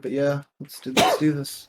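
A single sharp sneeze bursts out during a casual conversation, close and loud, with talking just before and after it.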